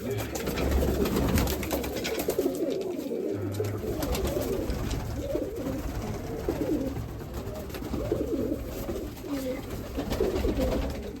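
A hungry pet pigeon in a loft coos softly and repeatedly, its low throaty calls recurring over a steady background hum with faint rustling.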